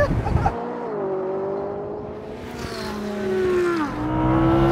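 A McLaren 570S sports car accelerates hard in a drag race. The engine note climbs steadily through the gears with brief dips at the shifts, loud and close.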